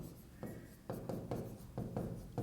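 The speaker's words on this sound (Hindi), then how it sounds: "इसको मैं थोड़ा सा सिस्टमेटिक तरीके से लिखता हूँ" Hand writing during a physics lecture on vector divergence and gradient, heard as close, scratchy strokes that come in a steady rhythm of short bursts about every half second. The scratching is quiet, with no clear talk over it.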